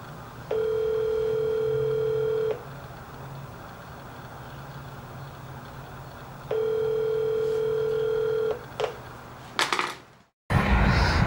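Telephone ringing tone on a repeated call: two long steady electronic rings, each about two seconds with a pause between, followed by clicks and a brief dropout as the line is cut.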